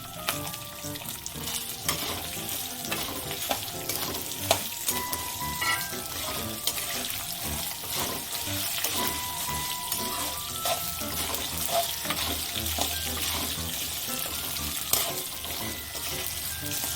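Coconut sautéing in a pan for mint thuvaiyal chutney, a dense steady sizzle and crackle with frequent stirring scrapes running throughout, close and fairly loud.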